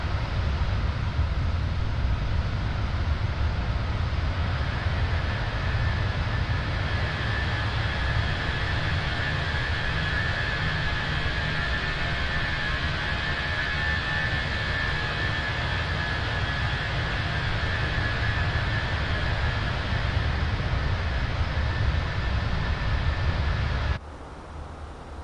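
Fenix A320 airliner with IAE engines in Jetstar livery, flown in Microsoft Flight Simulator: a steady, even engine drone with a faint whining tone on top, continuous until it cuts off abruptly near the end.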